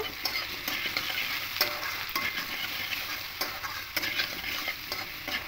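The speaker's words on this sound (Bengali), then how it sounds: "দিয়ে খুব ভালো করে মিশিয়ে নেব।" Potatoes with salt and chillies, for an aloo posto with peanuts, are stirred in a frying pan, giving a continuous close sizzle with repeated scraping and light clinks of the utensil; no voices.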